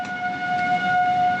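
A steady, sustained tornado warning siren wails at a constant pitch, clear and moderately loud against a low background rumble.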